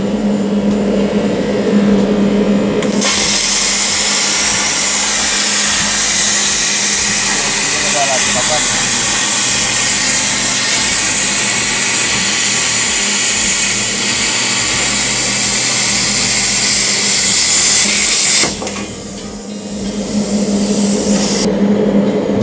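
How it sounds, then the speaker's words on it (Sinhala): A Riland CUT 100GT plasma cutter slices through a 12 mm stainless steel plate, giving a loud, steady roaring hiss that holds for about fifteen seconds before cutting off, with lower background noise on either side. "අන්න අපි දැන් සුද්ධයකට ප්ලේට් එකක් කපමු 12 mm."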